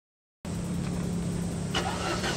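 An Alfa Romeo 75 engine starts abruptly and settles into a steady, low rumbling idle through a centre-exit aftermarket muffler, close by, with a brief faint voice.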